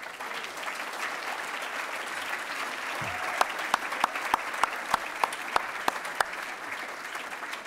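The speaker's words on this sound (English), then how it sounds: "Please stand up for a round of applause." A standing round of applause at an annual dinner for a human rights organization: a steady wash of crowd clapping, with one nearby pair of hands adding sharp, evenly spaced claps partway through.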